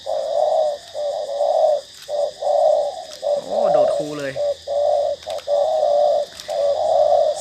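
A spotted dove (nok khao yai) coos in a steady, repeating rhythm of close, mellow phrases with short gaps between them, briefly interrupted midway by a quick chirping burst.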